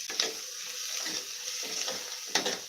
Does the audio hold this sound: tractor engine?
no